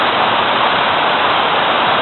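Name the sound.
waterfall rushing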